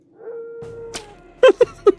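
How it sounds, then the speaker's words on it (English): A warg in The Lord of the Rings Online gives a long, wavering, steady-pitched howl, followed by three short, sharp yelps close at hand, with no talking. "Just hear the fucking howling."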